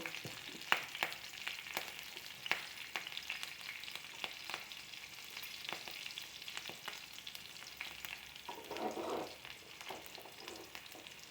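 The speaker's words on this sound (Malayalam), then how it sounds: "ഇനി നമുക്ക് അതിലേക്ക് ഇഞ്ചി ഇട്ടു, പച്ചമുളക് ഇട്ടു." Ginger and green chillies sizzle steadily in hot oil for upma, a dense crackling hiss with sharp pops and a few stirring scrapes toward the end, close and continuous with no talking.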